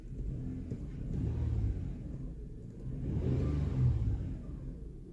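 Engine of a 2005 Toyota Sienna with a lack-of-power-under-load fault, revving in two rising surges during quick acceleration, heard as a moderate, muffled rumble with no talk.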